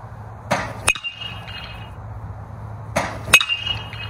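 A Marucci CatX Puck Knob BBCOR baseball bat strikes balls twice in batting practice, each hit a sharp metallic ping with a brief high ringing tail, about two and a half seconds apart.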